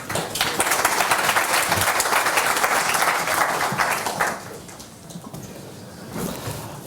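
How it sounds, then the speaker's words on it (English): An audience at a cloud-native tech conference in London applauds a speaker, loud dense clapping for about four seconds that then thins into scattered claps and room noise, with a brief swell near the end. "let's give a round of applause to Jesus"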